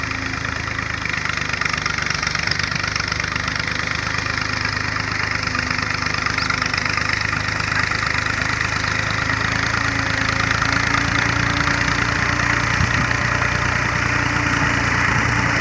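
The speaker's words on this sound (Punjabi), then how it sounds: "ਟਰੈਕਟਰ ਬੜੀ ਰੇਸ ਨਾਲ ਟੁਰਿਆ ਹੁੰਦਾ।" A tractor pulling a pressure trolley runs steadily and loudly, its engine droning close and unbroken throughout with no talk.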